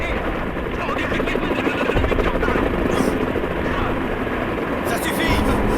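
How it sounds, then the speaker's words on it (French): A helicopter lifts off in the video game Final Fantasy VII Rebirth, its loud rotor chop and engine roar running throughout as people talk over it. "L'hélicoptère vient juste de décoller!"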